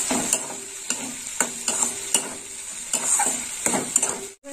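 Spices with red chili powder are stirred and fried for a rohu fish curry with mango: a bright continuous sizzle cut by a regular rhythm of spatula scrapes and clinks against the pan, close and clear.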